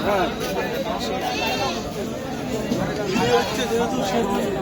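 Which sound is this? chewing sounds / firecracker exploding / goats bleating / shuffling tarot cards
goats bleating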